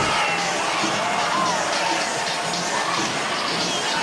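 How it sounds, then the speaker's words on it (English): Steady roar of a large stadium crowd at an NFL football game between the Jets and Patriots, a broad continuous wash of cheering and applause held at even loudness throughout. "that draws a big round of applause by the quarterback"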